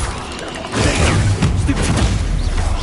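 Bombarda blasting spell in a Harry Potter video game: a loud, booming explosion that erupts suddenly and rolls on with crashing debris and rumble, close and heavy.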